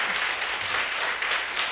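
Congregation applauding in a church during a prayer meeting, a steady wash of many hands clapping together, sustained and fairly loud throughout.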